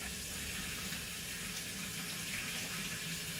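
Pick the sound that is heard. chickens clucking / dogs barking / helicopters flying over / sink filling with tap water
sink filling with tap water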